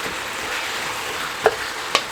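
Ground meat for lasagna browning in a pan: a steady, even sizzle runs throughout, with two brief sharp clicks of a spoon or pan near the end; no talking.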